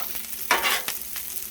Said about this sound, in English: let it heat up and let it start frying on the bottom